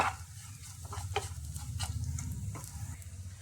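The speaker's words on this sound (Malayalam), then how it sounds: "ഈ എണ്ണയിലേക്ക് 1/2 സ്പൂൺ ജീരകപ്പൊടി കൂടി ചേർത്ത് കൊടുക്കാം. എന്നിട്ട് ഇതൊന്ന് ഇളക്കി കൊടുക്കാം." Cumin powder stirred into onions frying in oil for a Kerala beetroot and dal dish: close, continuous sizzling with scraping spoon strokes and crackling bursts.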